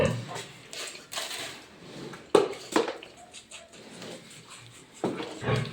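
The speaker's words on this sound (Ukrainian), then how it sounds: "А ви чого гавкаєте?" Dogs barking in a farmyard, several sharp barks and whimpers scattered among nearby human talk and a few clattering knocks, fairly close.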